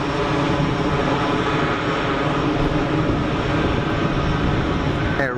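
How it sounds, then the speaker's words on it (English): A Swiss Airbus A220 jet rolls down the runway at Geneva Airport, its engines giving a loud, continuous roar that holds steady throughout. "So we've got that Swiss 220 rolling"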